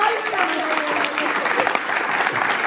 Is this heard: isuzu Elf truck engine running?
no